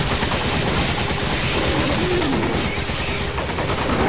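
Dense, continuous gunfire and loud shooting from a Resident Evil 5 battle fill the whole stretch, a steady dense barrage with no pauses.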